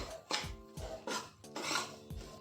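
A spoon scraping and clattering in a pot as roasted chickpea powder is mixed into a fenugreek laddu mixture, giving repeated rhythmic scrapes and metallic knocks at close range with no talk.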